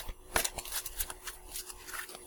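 Tarot cards being shuffled by hand, a quiet sequence of soft riffling and slapping bursts, close and faint, with no voices.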